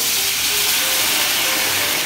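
White wine hits a hot pan of meat over low heat, giving a steady, close, bright sizzling hiss that holds at an even level throughout with no talking.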